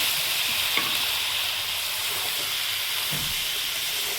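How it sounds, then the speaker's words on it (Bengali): Carrot, potato and other vegetables fry for khichuri, a steady close sizzle and hiss filling the pan throughout, with a few scraping stirs. "গাজর আর আলুটা একটু শক্ত সবজি তো, তার জন্য একটু আগে ভেজে নিলাম।"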